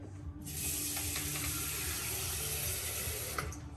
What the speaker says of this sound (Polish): do Thermomixa dolewam trochę wody